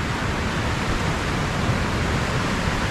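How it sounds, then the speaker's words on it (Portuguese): A small waterfall at Vila de Trindade near Paraty, Rio de Janeiro, sends water pouring down in a steady, dense rushing hiss that stays loud and unbroken throughout, heard close with no voices. "Tem uma cachoeirinha, ó."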